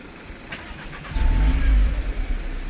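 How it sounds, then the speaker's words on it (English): An Audi S3 that had been a non-runner cranks briefly and catches, its engine bursting into a deep rumbling idle that swells loudly then settles slightly, heard close with no talk. "We know the car starts"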